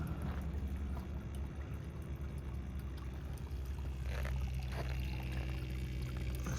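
Water runs continuously over a gold sluice mat from a gutter sluice, washing out black sand in a steady, rushing gurgle with faint splashes and no talking.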